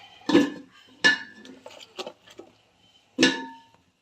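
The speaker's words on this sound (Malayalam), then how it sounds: "അരിഞ്ഞു വെച്ച നമ്മുടെ കഷ്ണങ്ങളെല്ലാം അതിലേക്ക് ഇട്ട് കൊടുക്കാം" Chopped raw plantain pieces for a pickle are tipped into a cooking pan, giving three or four separate clattering clinks with short gaps between them. A few lighter taps and rattles follow in an otherwise quiet kitchen.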